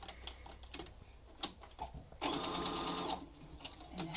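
Home sewing machine zigzag stitching fabric for a cloth face mask, a close, rapid mechanical whirr lasting under a second after scattered clicks and handling taps, quiet overall.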